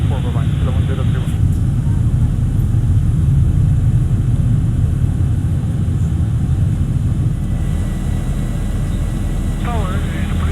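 A Boeing 737 taking off at Gardermoen in the X-Plane 11 flight simulator in gusty wind, with a loud, steady jet engine roar and rumble sustained throughout, and brief radio chatter at the start and end.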